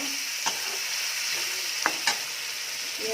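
Chicken and potatoes being stirred in a hot frying pan, a steady sizzle of frying oil throughout with a few distinct scraping strokes of the spoon against the pan, close and alone without any talk.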